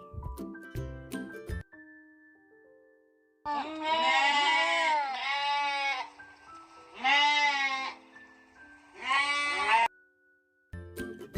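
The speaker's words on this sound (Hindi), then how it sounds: "ये है भेड़ी, जिसे हम इंग्लिश में बोलते हैं एवी।" A sheep gives several loud, wavering bleats, close up, in separate repeated calls broken by gaps, with short synthetic music tones at the beginning and end.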